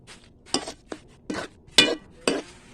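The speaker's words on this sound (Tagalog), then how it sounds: "Ayan, haluin lang siya guys." A utensil clinks against a pot while vegetables cooked with a Knorr pork cube are stirred, producing sharp metallic taps in an irregular rhythm, close and fairly loud.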